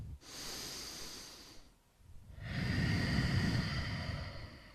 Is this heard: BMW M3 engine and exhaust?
no